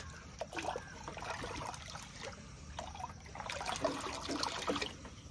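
Water runs steadily into a bucket as it is filled about three-quarters full, for a farm preparation of jeevamirtham, a continuous soft splashing trickle heard fairly close and alone at low level.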